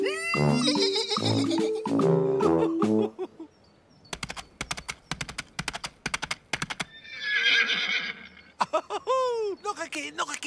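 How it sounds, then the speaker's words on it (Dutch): A horse whinnies in long, high, wavering calls, followed by a brisk run of clip-clopping hoofbeats, with voices chattering around it. "Tinky Winky deed net alsof hij een paard was."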